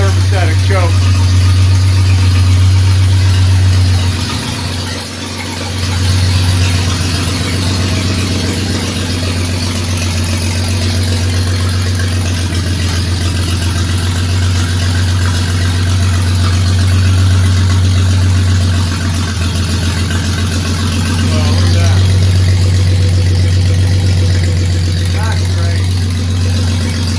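A 1948 Dodge Custom sedan engine idles slightly raised on its first run with a faulty automatic choke, a steady loud low rumble with a brief dip partway through.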